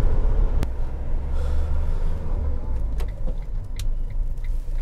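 An Iveco Daily minibus with an Irisbus 19+1 body being steered at full lock, heard from inside as a steady low engine drone with a few sharp clicks and rattles scattered over it.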